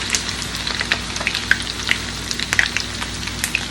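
Plantain slices frying in hot oil for tostones, a dense continuous crackle with sharp popping spatters, close and fairly loud, no talk.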